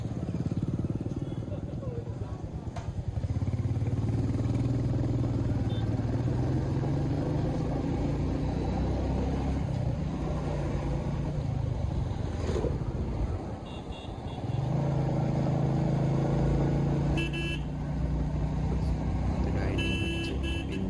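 A motorcycle rides along a road, its engine a steady loud rumble with wind buffeting, other traffic passing, a short horn toot and a brief dip as it slows. People talk over the ride in places.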